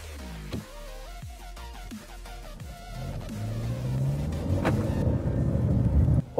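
A 2020 Kia Carnival with a 2.2-litre turbocharged diesel engine drives along, giving a steady low rumble that grows slightly louder and fuller toward the end, with no talking.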